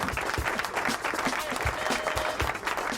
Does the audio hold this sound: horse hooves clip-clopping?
no